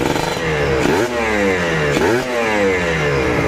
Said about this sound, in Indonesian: Kalian dengarkan baik-baik. Tuh knalpotnya.